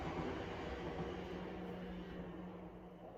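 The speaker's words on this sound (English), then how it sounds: "Again, the goddamn train." A train passing outside makes a steady, low, muffled rumble that fills the whole stretch without pause and fades slightly toward the end.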